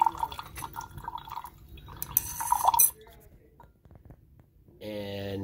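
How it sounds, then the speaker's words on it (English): Hydrochloric acid is poured onto copper(II) oxide in lab glassware: a brief trickle and drips with light glass clinks, then a quieter stretch before a steady hum. "We're going to go ahead and mix the HCl with the copper 2 oxide."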